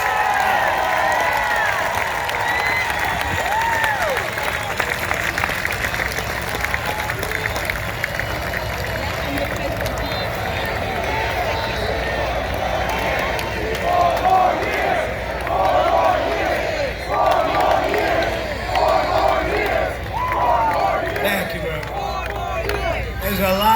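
A large outdoor presidential campaign rally crowd roars with sustained cheering, shouting and applause, a dense continuous wall of voices that swells in waves toward the end.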